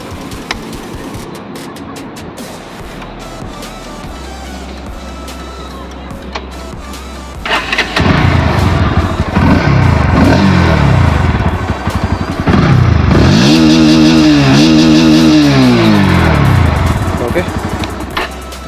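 A Bajaj Pulsar NS160 with a 160 cc single-cylinder oil-cooled engine is quiet at first, then fires up into a loud, close idle before a series of rising and falling revs.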